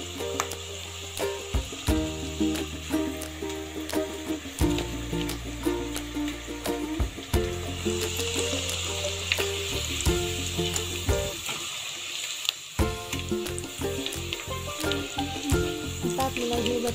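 Potato sticks for homemade French fries frying in hot oil, giving a continuous crackling sizzle under steady background music with no talking.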